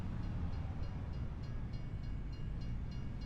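Canadian trains passing in Farming Simulator 25, a steady low rumble of rolling rail cars with faint rhythmic clicks, continuous and unbroken for a few seconds.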